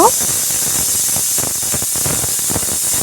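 A pressure cooker with beef trotters inside, cooking over a medium flame, lets out steam in a steady close hiss that barely changes from start to finish.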